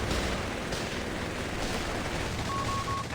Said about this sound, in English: so I throw some grenades